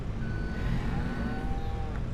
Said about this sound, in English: The cows are back in town.